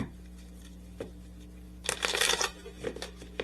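Tarot cards are shuffled in a quiet room, a few soft taps followed by one brief riffling burst and a lighter flutter, close and faint, with no talking.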